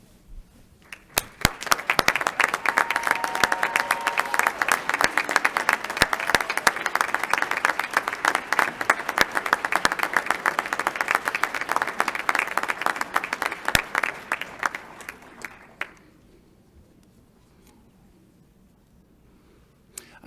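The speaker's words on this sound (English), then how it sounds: "so that we may all honor you with our applause" Commencement ceremony audience applauding the faculty, a large crowd's sustained, dense clapping that starts abruptly, holds steady for about fourteen seconds and then fades away into near silence.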